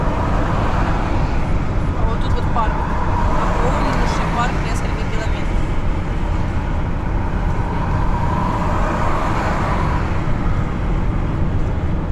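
A car drives along a road with a steady, loud rumble of tyres and engine and continuous road noise throughout, as people talk inside the vehicle.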